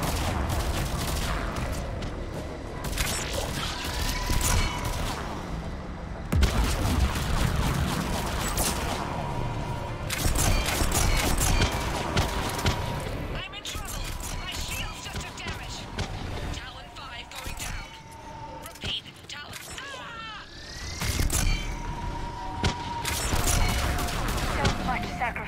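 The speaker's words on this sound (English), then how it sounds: "Fire anything, these guys are just constantly shooting." Rapid, near-constant gunfire from a Mass Effect 3 video game battle, with overlapping shots and bursts across the whole stretch, mixed with dense game effects and music.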